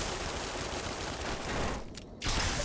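Rapid gunfire from a gun in Fallout: New Vegas, a continuous rattling burst of shots that cuts off briefly to near silence before firing resumes.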